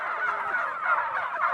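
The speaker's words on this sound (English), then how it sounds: "Because turkeys are so curious, they'll go right in front of the shed." Turkeys gobble continuously in a dense, overlapping chorus on a farm near a shed, close and fairly loud with no talking.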